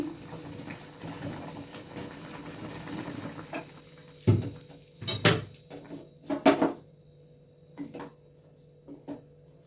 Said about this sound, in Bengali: এবার একটু আমি নাড়াচাড়া করে নিচ্ছি